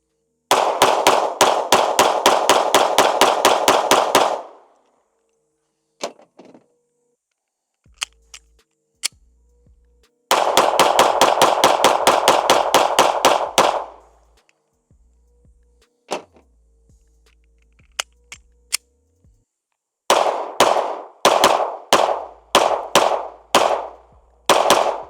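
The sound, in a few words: Springfield Hellcat Pro Comp pistol being fired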